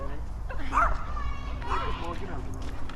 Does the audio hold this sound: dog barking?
yes